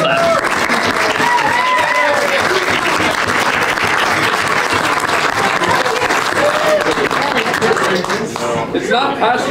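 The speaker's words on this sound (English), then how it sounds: "Now you clap." Guests at a farewell party give sustained, dense applause from a close crowd, steady and loud throughout before easing slightly at the end, with some voices mixed in.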